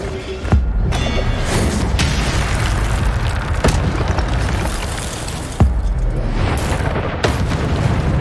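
Fire spell blasts in Hogwarts Legacy crack out as sharp booming bursts over a dense, roaring fiery rumble, loud and close, with several separate impacts spread through the span.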